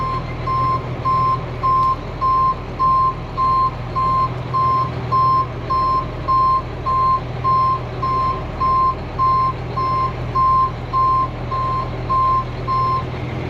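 A truck backing up on a farm while cow feed is being put up sounds a steady, evenly spaced series of loud reversing beeps over a constant low engine drone, with no talk.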